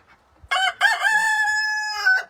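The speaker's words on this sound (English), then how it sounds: "Look at that damn rooster." A rooster on a goat farm crows loudly and close by, one long drawn-out cock-a-doodle-doo lasting nearly two seconds after a brief faint sound, with no talking over it.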